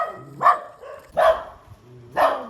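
A dog barks three times at a steady pace, each bark loud and close, with short pauses between them in an indoor home setting.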